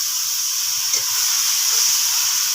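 A little water is splashed into a hot pan of sautéed spices with chili and turmeric powder for an elephant-foot yam and rohu fish curry, setting off a loud, steady, close hiss that holds for a few seconds.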